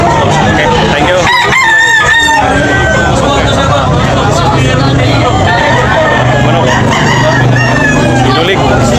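Roosters crowing repeatedly at a busy chicken auction in Tabunok, loud and close, with clucking fowl and a background babble of people talking throughout.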